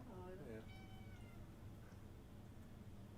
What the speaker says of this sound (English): Cats are so loud.